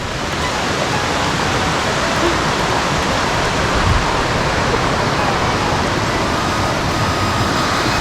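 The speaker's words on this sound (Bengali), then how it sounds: "এই ঝর্ণার জলটাই," Waterfall at Rock Garden in Darjeeling, a steady, dense rush of falling water that holds even and loud for the whole stretch, with no voices over it.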